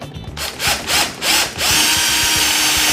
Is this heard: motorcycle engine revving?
no